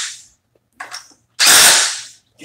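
A DeWalt or Milwaukee impact driver drives a screw in short bursts: a brief whir, a second short burst, then a longer, louder rattling run, all close with quiet gaps between.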